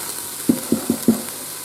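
A spurtle stirs food around in a Ninja Foodi pot, giving four short scraping knocks over a low sizzle-like hiss, with no talking.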